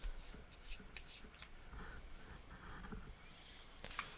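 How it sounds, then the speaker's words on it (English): Cards being shuffled close up, a steady papery riffling and rubbing with a few sharper snaps, no voices. "Now shuffle the deck."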